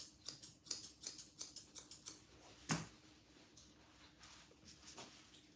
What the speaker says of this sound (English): angling up towards the top line with my scissors angled in.